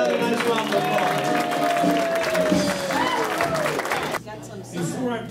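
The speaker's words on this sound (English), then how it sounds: "Give them another nice round of applause." Church congregation applauding for about four seconds, a dense steady clapping crowd with some cheering and voices mixed in, then cutting off abruptly to a quieter room.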